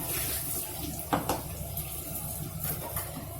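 Tap water runs steadily into a mixer grinder jar to rinse out leftover masala in a home kitchen. The splashing hiss continues without a break, close and moderately loud, with a couple of brief clunks of the jar.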